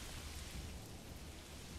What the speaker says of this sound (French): Il pleut des cordes, c'est en septembre.